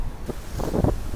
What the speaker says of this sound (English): It's pretty chilly out here today, windy.